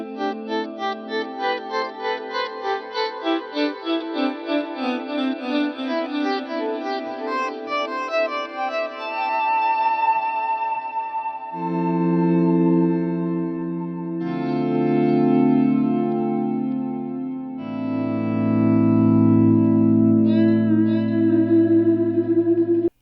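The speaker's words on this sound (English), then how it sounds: "I've got the return level up a lot higher, and I like this with a clean sound for kind of ambient swells with that long delay." Clean electric guitar plays slow ambient swells through a long delay, with sustained notes blooming and repeating in layered echoes, steady and alone without talk.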